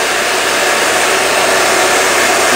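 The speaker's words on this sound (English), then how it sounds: "You kind of don't want to get no closer than this with the heat gun." A steady, loud rush of blowing hot air, like a heat gun running close by, with a constant broadband hiss and no pauses or voices.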